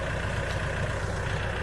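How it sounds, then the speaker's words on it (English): A tractor engine runs at a steady, low idle, a constant throbbing hum close by with no other sounds over it. "We'll see if my tractor will lift the rear end of this up"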